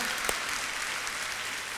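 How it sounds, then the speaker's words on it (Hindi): A congregation at a church service claps loudly in thanks, a dense and steady burst of applause from many hands that holds at an even level throughout. "तो जोरदार ताली बजाकर यीशु का धन्यवाद करें"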